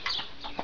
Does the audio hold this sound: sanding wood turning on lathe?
no